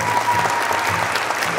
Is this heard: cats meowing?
no